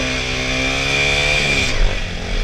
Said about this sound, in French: c'est de mettre le coup de gaz et de lâcher l'embrayage d'un coup sec